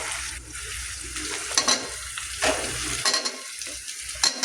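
Curry leaves, garlic and tomato sizzling in a hot pan with oil, a steady crackling fry broken by stirring scrapes and a few sharp spatters, close and fairly loud with no talking.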